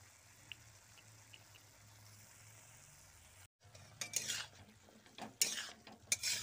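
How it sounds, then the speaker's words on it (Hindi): Drumstick curry with masala being stirred and fried in a pan, with scraping and sizzling clatter that grows louder and busier in the second half after a brief silence. "इसको मिक्स करेंगे, फ्राई करेंगे थोड़ा सा"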